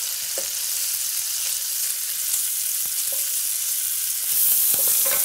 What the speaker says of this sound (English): We're just gonna put this in with the butter. The butter is gonna help it get started and help the fat start to render.